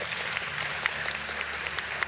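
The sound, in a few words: audience applauding the five speakers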